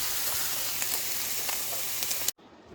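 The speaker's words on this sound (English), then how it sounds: "we're just going to get this a little sauteed" Ham sautéing in a pan for navy-style potato soup gives a steady, close, even sizzle with faint pops, cutting off abruptly near the end.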